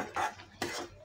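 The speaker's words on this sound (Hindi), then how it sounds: "इसको 2 सेकेंड और भूनेंगे हम, इसे अच्छे से भुनाई करना है कि एकदम चीनी चाशनी सब घुल मिल जाए" Spoon scraping and stirring bal mithai mixture as it roasts in a pan with sugar syrup, two short clattering scrapes of utensil against metal, close and moderately loud.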